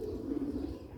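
Purebred Sialkoti pigeons of the Chuhe type coo close by, a low, throaty, rolling call lasting about a second against faint background noise.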